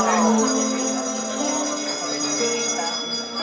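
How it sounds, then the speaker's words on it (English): A bell rings with sustained, shimmering tones that hang and slowly decay, loud and close, during a magic-themed show aboard the Disney Destiny cruise ship. "Give us a hint by ringing a bell."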